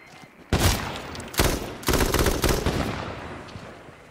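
Gunfire in the H1Z1 battle royale game rings out in several sharp, loud bursts of rapid shots, each with a brief reverberant tail, with no talking over them.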